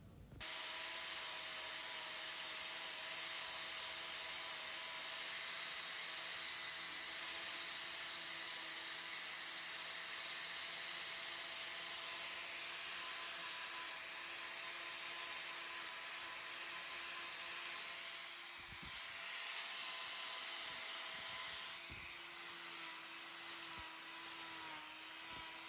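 A power tool trims a cow's hoof, a continuous high-pitched grinding whine running steadily and close, with brief dips near the end.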